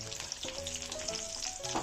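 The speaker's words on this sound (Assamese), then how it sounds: "10 মিনিটমান একদম চিমত ভাজি ল'লোঁ। একদম ক্ৰিস্পি হৈ গৈছে।" Chicken pieces for honey garlic chicken deep fry in hot oil until crispy, giving a steady, dense sizzle with crackling bubbles that carries on without a break.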